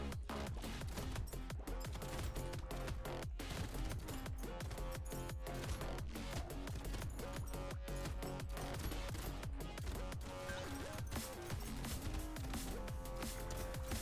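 Rapid, continuous shotgun fire in the arena game Brotato, a relentless stream of sharp blasts layered over a steady backing soundtrack, no talk.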